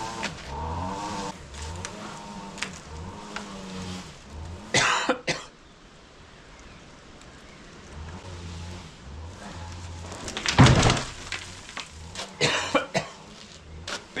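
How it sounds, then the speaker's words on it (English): Several harsh coughs break out in bursts over a car engine's low rumble and occasional revving. "Also makes me cough."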